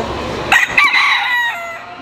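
A Polish rooster crows close by at a strawberry festival, one loud, strained call that rises sharply, holds its wavering note for over a second and then trails off.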